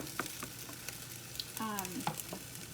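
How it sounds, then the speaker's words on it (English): A pot of posole verde bubbling and simmering over medium heat, giving a steady crackling hiss with a few brief squeaky tones partway through, no talking. "So I have that in medium heat, and I am letting that boil and cook."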